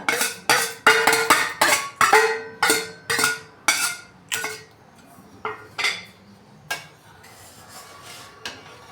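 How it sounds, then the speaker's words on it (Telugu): Metal spoon scraping and clinking against a pan while dry fruits are stirred into a sooji laddu mixture, with a quick series of loud, rhythmic strokes that slow and soften into sparser scrapes. "ఇప్పుడు ఈ డ్రై ఫ్రూట్స్ కూడా వేసి మిక్స్ చేసేసుకుందాం అంతా."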